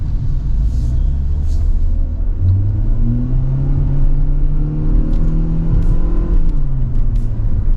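A 2025 Mitsubishi Xforce subcompact SUV drives on a race track, its engine a loud, steady low rumble with gentle rising revs, heard from inside the cabin and without talk.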